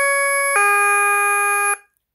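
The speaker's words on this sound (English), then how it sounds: "Hit the bell." A KERUI wireless security alarm kit's doorbell chime rings loud and alone: a single sustained two-tone electronic ding-dong lasting under two seconds before cutting off.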